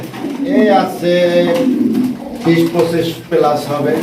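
Pigeons coo in soft repeated bursts close by at a pigeon seller's farm, mixed with some background voices.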